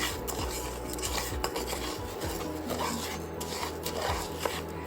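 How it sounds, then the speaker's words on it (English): Rice being stirred and fried in a pan, steady scraping and sizzling with repeated utensil strokes against the pan, close and continuous throughout. "Move the rice around in the pan for a little bit."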